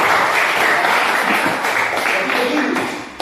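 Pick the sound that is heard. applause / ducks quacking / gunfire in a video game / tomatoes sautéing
applause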